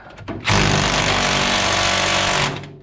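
A 1939 Chevrolet engine cranks over with a loud, steady mechanical churning that starts abruptly and runs for about two seconds before cutting off, with no voices over it.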